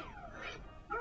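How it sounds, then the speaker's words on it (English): A dog sound effect from a children's spelling game, a short whimpering yip rising at the end, heard alone and fairly faint. "Dog."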